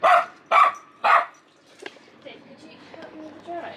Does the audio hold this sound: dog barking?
yes